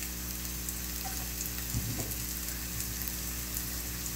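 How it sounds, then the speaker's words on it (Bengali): Sliced onions sizzle steadily in hot oil in a pan, a continuous close-up crackle with a brief stirring clatter midway and no voices. "দিয়ে দিলাম এই যে পেঁয়াজ।"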